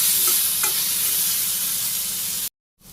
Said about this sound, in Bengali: নাড়াচাড়া করে আবার একটু ভাজি করে নিই।